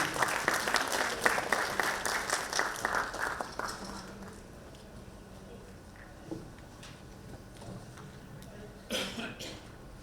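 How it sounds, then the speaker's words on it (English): Applause from a conference audience at an ESG summit session welcoming the chief guest, a dense burst of clapping for about four seconds that fades into quiet room noise with a few scattered claps and coughs. "Big round of applause, please."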